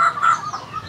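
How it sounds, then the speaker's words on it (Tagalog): Native chickens kept indoors cluck in a short, busy burst, several birds calling close by with no talk over them. "Yan yung native chicken."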